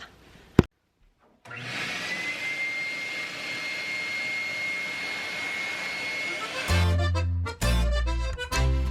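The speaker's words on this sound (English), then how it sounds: "I don't have the right nozzle on my vacuum, but what can you do?" A vacuum cleaner used without the proper nozzle attachment roars with a steady, loud whine for several seconds, then cuts out into a few rough clattering bursts.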